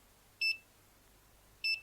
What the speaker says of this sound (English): it also beeps until I let that go